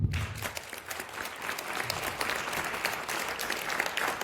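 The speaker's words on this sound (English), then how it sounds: "Keep the applause coming, people." An audience claps after a talk at a Bhagavad Gita teachings event in Frankfurt, producing dense, steady applause that fills the room at an even level throughout, with no voices over it.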